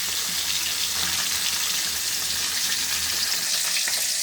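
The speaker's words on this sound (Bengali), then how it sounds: "আর একটা মাছ ভাজা হচ্ছে" Koi fish, a fairly large one, frying in a pan with a steady, loud broadband sizzle and hiss that runs unbroken throughout, with no voices.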